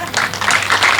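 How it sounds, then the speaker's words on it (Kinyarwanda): An audience claps together in thanks at a ceremony for tailoring graduates, a brief dense burst of applause filling the space at close range. "Hamwe munize amashyi mushimire shobuja"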